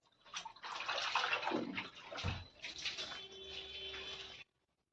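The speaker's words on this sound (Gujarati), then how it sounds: "મેડમ વાસણ ધોવે છે" Water runs and splashes steadily while dishes are rinsed in a bathroom, with brief clatter and sloshing, close by, no talking.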